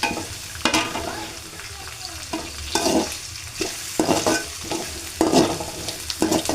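Food sizzles in hot oil in a pan while fried rice is made, with a steady crackling fry broken by repeated scraping and stirring strokes.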